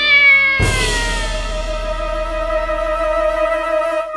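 A cat gives one loud, long, drawn-out meow close by, holding its pitch for several seconds after a brief quieter sound.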